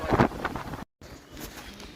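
Wind gusts into the microphone on a mountain descent, a loud buffeting rush that cuts out briefly and returns softer and steadier.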